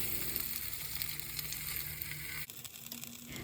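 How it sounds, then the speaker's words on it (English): Naan frying in hot oil in a pan gives a steady, quiet sizzle that continues unbroken with a faint clatter partway through. "to a hot pan here, I'm going to add in some oil. And once that's hot, I'm going to drop in our naan"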